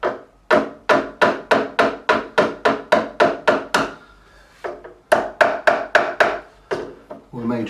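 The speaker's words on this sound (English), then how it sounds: "All I'm going to do is ever so gently tap" Repeated light hammer taps on the nut of a Gibson ES-335 guitar, a quick run of about ten crisp, evenly spaced close knocks, a brief pause, then another burst of taps.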